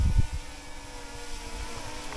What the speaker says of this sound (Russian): Дрон летает.